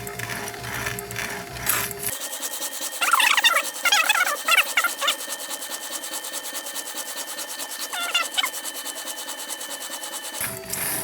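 A knife drawn over a fine-grit diamond hone block from Harbor Freight, mounted in a sharpening rig, gives steady rhythmic scraping strokes at close range, with a brief mechanical noise before and after.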